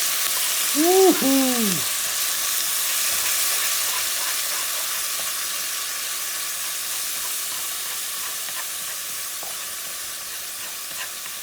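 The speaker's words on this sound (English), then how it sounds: "I'm going to add some tomato sauce" Tomato sauce poured into sizzling chicken and rice in a hot pan for Puerto Rican arroz con pollo, a steady loud sizzle running throughout, with a brief cheerful shout near the start.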